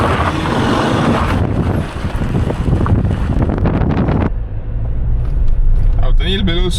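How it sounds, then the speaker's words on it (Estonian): Strong wind buffeting the microphone on a roadside stop during a road trip through Latvia, a loud steady roar with gusts, fading into a quieter patch near the end where a voice speaks briefly. "Siin on väga tugev tuul."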